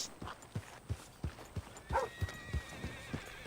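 A horse in Red Dead Redemption 2 walks with steady clip-clop hoofbeats at a close, even rhythm and gives a brief whinny midway through, all fairly quiet.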